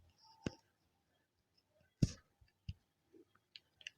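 Computer mouse clicks sound as an image is selected in a browser, a few sharp close clicks spaced irregularly over near silence.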